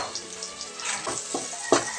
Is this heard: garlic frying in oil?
yes